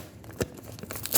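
Packaging around an old homemade fidget toy is ripped open in a quick, close tear with a few crinkly rustles, one sharp burst early and scattered crackles afterward.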